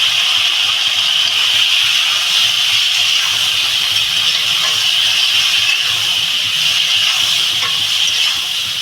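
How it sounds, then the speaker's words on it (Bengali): Curry of potatoes, flat beans and fish frying in a pan with turmeric, coriander and cumin, giving a loud, steady sizzling hiss that holds unbroken from start to finish. "ভালো করে এটা ভেজে নেবো তরকারিটা"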